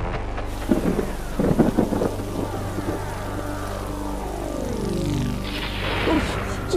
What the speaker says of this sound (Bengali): কি বাজ পড়ছে রে বাবা